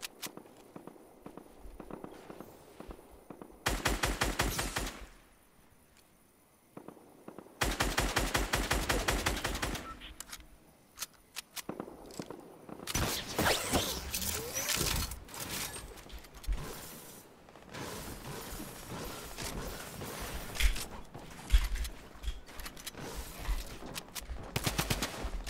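Rapid automatic gunfire and shots from Fortnite solo arena play, arriving in loud dense bursts separated by quieter stretches with footsteps, then continuing in a sustained busy mix of weapon fire to the end.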